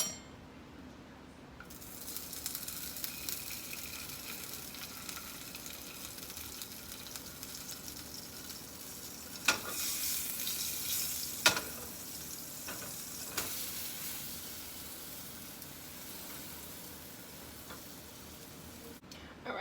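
Pancakes fry in melted butter in a pan, a faint, steady sizzle with occasional light clinks and taps of a utensil against the cookware.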